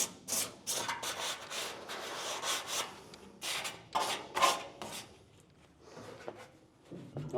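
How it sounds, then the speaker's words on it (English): Sandpaper worked by hand over a rusty, blasted Camaro steel floor panel after phosphate treatment, faint close-up raspy strokes in irregular bursts with short pauses. "I'm going to get a piece of sandpaper and do my diligence"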